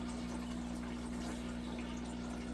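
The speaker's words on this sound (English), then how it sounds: "the water is starting to pour back into the aquarium" Water trickles and pours from a homemade undergravel filter back into a 20-gallon aquarium, a steady close splashing flow over a constant low pump hum, with no talking.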